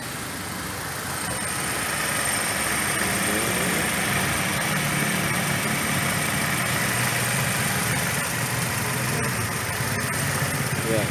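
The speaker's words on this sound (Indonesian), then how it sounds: "biasanya suara mesinnya ntar lebih halus" A 2010 Nissan Serena 2.0L engine fitted with an HHO fuel saver idles steadily at close range, a continuous even drone with a faint higher whine throughout and no talk.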